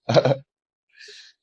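A single sharp sneeze bursts out loud and close, followed after a short silence by a faint, breathy hiss.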